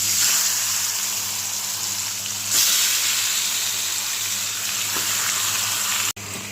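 Marinated meat dropped into hot oil with cardamom and cinnamon in a kadai, giving a loud, steady sizzle with a brief surge as it lands and no talking.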